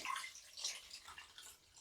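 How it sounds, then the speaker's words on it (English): Cold water poured from a pre-measured one-litre batch into a pot of sweet potatoes for brewing ale, a steady broadband splashing and gurgling stream heard close and alone, easing slightly toward the end. "I'm going to pour in 1 litre of cold water."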